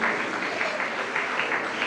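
An audience at a graduation ceremony claps steadily for the graduates, a dense, even patter of many hands at moderate distance with no voices over it.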